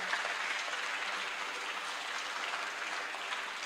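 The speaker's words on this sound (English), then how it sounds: "Yes, give a round of applause." An audience at a live summit event applauds steadily, a dense, even clapping that fills the short clip at a moderate distance, with no talk over it.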